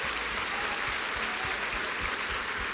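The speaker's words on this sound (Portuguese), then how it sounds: "aplauda, aplauda, aplauda." A church congregation applauds steadily throughout, a dense, continuous wash of many hands clapping at even loudness with no voices.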